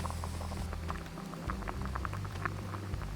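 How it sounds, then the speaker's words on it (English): A pot of macaroni and cheese bubbles on a Snow Peak camping stove during a winter camping trip in Alabama, a close, steady boiling patter with a continuous low burner roar beneath. "I'm cooking up some cheese and macaroni"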